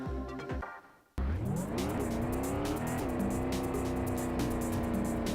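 A Mustang Cobra racing in the driving game Vanishing Point: after a brief fading engine tone and near silence, the engine surges back loud and revs through rising gear changes, steady and close.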